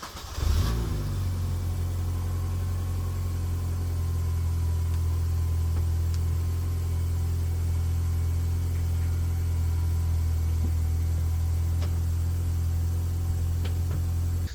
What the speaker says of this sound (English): start the car up and check all the bulbs.